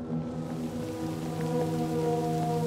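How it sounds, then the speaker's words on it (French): Rain effect in the video game Cyberpunk 2077: a constant soft hiss of falling rain sits beneath a steady tonal hum, with no pauses. "l'effet de pluie il est crade"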